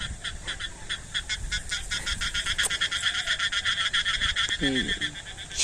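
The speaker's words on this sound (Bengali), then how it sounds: "দেখছেন কিরকম ব্যাঙ ডাকে" Frogs croak in a watered field, a dense rapid pulsing chorus that runs continuously and fairly close, with a voice speaking briefly near the end.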